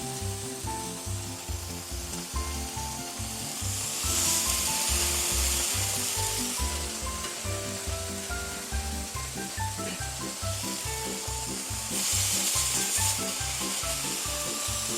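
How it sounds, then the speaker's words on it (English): Bologna slices fry directly in a hot pan, giving a steady sizzle and crackle that runs for the whole stretch beneath louder rhythmic background music. "Bologna to fry. You're just gonna put it directly on there."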